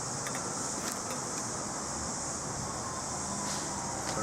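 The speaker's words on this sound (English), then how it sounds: "Sorry, it's a bit windy, so I'll try and keep the notes from blowing away." Steady wind blowing outdoors, a continuous broadband rush with gusts buffeting the microphone, loud and unbroken throughout.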